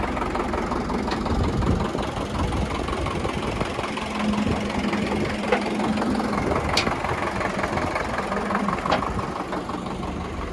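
An MTZ 892 tractor engine idles smoothly and steadily at close range, a constant mid-to-low rumble that holds for about ten seconds with faint background knocks and no speech.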